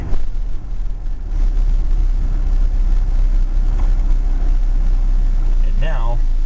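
Manual-transmission car engine idling in neutral while stopped: a low steady hum holds throughout, with a voice talking over it.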